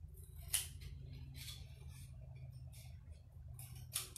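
Scissors snipping slits in paper, a few short, soft crisp cuts spaced apart over a low background hum.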